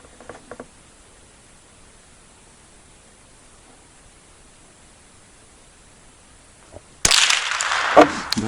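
A single sharp crack from an Okhotnik 370S .22 LR rifle bursts out after several seconds of near silence outdoors, loud and close, followed by a brief noisy tail.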